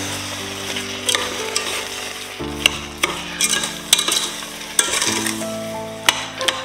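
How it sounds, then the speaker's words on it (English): Apricots and sugar get stirred together in a pan over very low heat, a gentle continuous hiss beneath irregular scrapes and clinks of a spoon against the pan, close by. "Mix all together"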